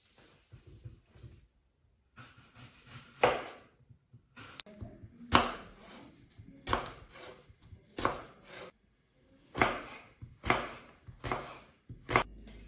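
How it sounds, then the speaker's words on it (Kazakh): Apples chopped into small cubes with a knife on a board, a series of sharp, close chopping strokes in uneven bursts with quiet pauses between them. "біз алманы ұсақ төртбұрыш қылып турап"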